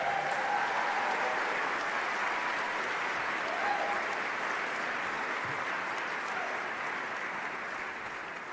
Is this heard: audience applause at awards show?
yes